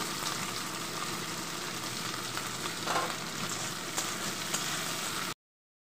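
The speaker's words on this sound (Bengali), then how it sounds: "এবার দিয়ে দেবো ক্যাপসিকাম কেটে রাখা, এরকম চৌকো চৌকো করে কেটে নিয়েছি" Chopped square pieces of capsicum sizzle loudly in a pan for chilli paneer, a steady dense frying hiss with a few stirring clatters, close and continuous with no talk, cutting off abruptly near the end.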